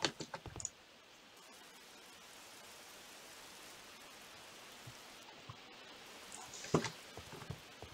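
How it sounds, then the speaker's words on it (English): Steady rain in the Minecraft video game, a continuous even hiss with soft pattering and a few brief clicks near the start and end, no talking. "Hopefully that will make the rain go away."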